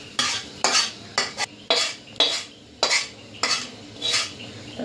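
Spoon stirring a garlic chilli paste with curry leaves, salt and turmeric for vada pav filling, heard as about nine rhythmic scraping strokes against a bowl, close and fairly loud, with no talking.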